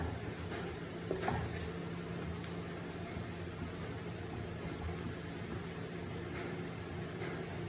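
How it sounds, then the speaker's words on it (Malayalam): Turmeric, chilli and coriander powders fry in oil in a pan over low heat for a Kerala-style fish curry, giving a faint, steady sizzle that runs evenly throughout with no voices. "മഞ്ഞൾപ്പൊടിയും മുളക് പൊടിയും മല്ലിപ്പൊടിയും കൂടി നല്ലപോലെ മൂത്ത് വരണം"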